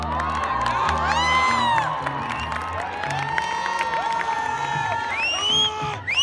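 A concert crowd at a Punjabi music night in Nawanshahr cheering, whooping and clapping loudly, a dense wash of shouts and whistles with music playing underneath.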